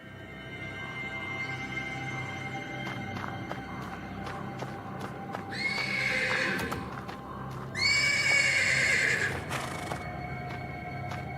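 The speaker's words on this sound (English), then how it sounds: "The persistent neighing of a horse can be heard from the stables" A horse neighs repeatedly from the stables in the video game The Black Book, two loud whinnies standing out over a constant rustling background with occasional hoof clops and taps.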